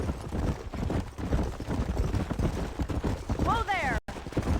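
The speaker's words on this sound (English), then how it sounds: "There's the horses!" Horse hooves clip-clop rapidly and repeatedly in Red Dead Redemption, close and fairly loud, joined briefly by a whinny near the end.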